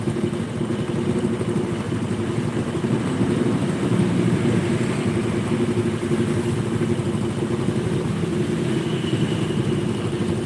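A Honda Supra motorcycle engine idles steadily close by, a continuous low mechanical drone with no talking over it; the bike has a short clunking gearshift and a backfiring exhaust.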